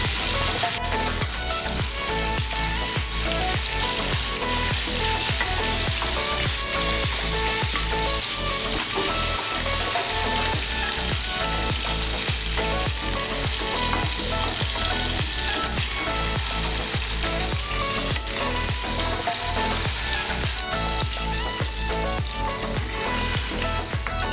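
Large fish pieces fry in hot oil with a dense, continuous sizzle and crackle, loud and close, holding steady throughout without any talk.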